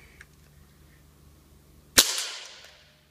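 A Crosman 2240 air pistol running on high-pressure air fires a single sharp, loud crack, followed by a decaying hiss and ring.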